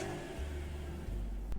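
A 2023 Honda Civic Hatchback engine in a video game turns over and settles into a low, steady idle hum, with a brief click near the end.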